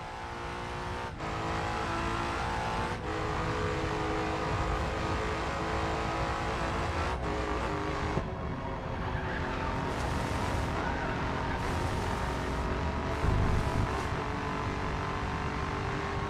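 A race car engine drones steadily during a grip run on the Nürburgring in the Racing Master video game, a sustained loud hum with brief shifts and changes in pitch, heard close and without talk.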